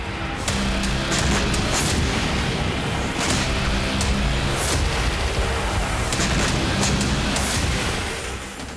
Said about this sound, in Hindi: एक के बाद एक कई विस्फोट से बेरूत एयरपोर्ट बुरी तरह दहल गया।